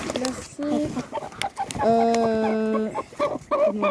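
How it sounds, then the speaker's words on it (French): Young Ayam Cemani chickens, about four and a half months old, make close clucking and drawn-out tonal calls in an irregular run, with a long sustained call in the middle. "Voilà, le coq Ayam Sinami."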